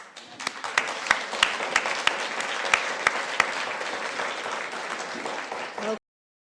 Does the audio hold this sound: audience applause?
yes